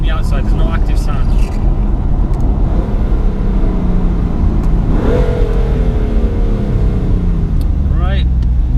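A BMW F80 M3 engine heard from outside through lowered windows, with a loud, steady drone that swells into a rising rev near the middle and again close to the end.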